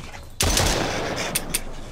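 One sharp, loud gunshot in Mist Survival, followed by a decaying tail and two fainter cracks a second later.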